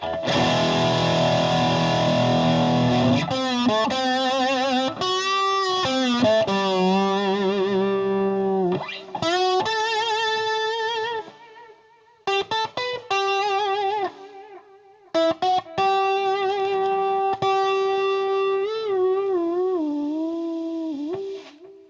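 An electric guitar played through a Boss Nextone combo amp with too much gain rings out in sustained distorted notes and chords, with short gaps and a faint hiss between phrases.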